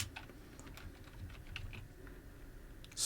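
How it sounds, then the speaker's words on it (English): Keys clatter softly on a computer keyboard as code is typed, quick irregular clicks close by at low volume. "I'm going to type @media"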